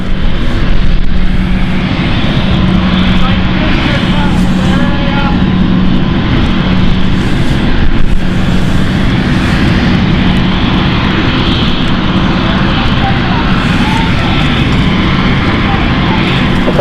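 A passenger airplane takes off from runway 09 at London City Airport, a steady broad engine roar that holds loud and close throughout with a low droning hum beneath, while talk runs faintly under the noise.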